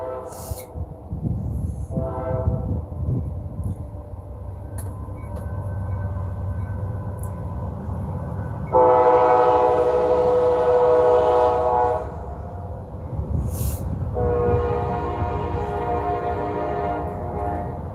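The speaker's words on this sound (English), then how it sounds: "There's the train." A train rumbles past steadily, and its horn sounds two long, loud blasts separated by a short pause.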